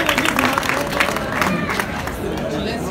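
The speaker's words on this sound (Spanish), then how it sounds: "fuerte aplauso, compañero, para esta batalla entre Tego y Big Tamina." Crowd applauding and cheering after a freestyle rap battle in a league event, dense clapping mixed with shouts and chatter, loud and continuous over a few seconds.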